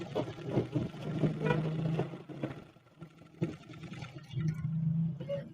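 A sewing machine stitching cloth for a men's langot runs in repeated bursts, its motor humming steadily with brief pauses between stitching passes, close and moderately loud.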